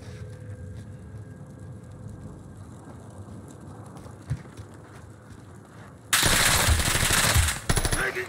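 Video game gunfire erupts in Warzone on Rebirth Island: a loud burst of rapid automatic fire breaks out abruptly after a quiet ambient stretch, then pauses briefly and resumes.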